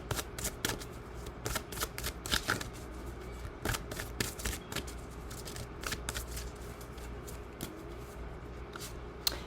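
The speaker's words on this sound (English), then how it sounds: "Let's go ahead and pull some cards just to see what else comes out." Tarot cards being shuffled by hand, a rapid flurry of soft riffling snaps and slides close up, repeating in bursts over several seconds with no talking.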